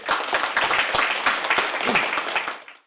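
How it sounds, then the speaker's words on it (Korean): Audience at an academic aesthetics conference applauds to welcome the next presenter, a brief, fairly loud burst of collective clapping that carries evenly for a couple of seconds and then stops. "큰 박수 부탁드립니다"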